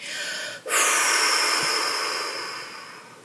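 A forceful exhale during a guided relaxation exercise, one long breathy rush that starts sharply and then slowly fades over a few seconds, close and alone, with no talking.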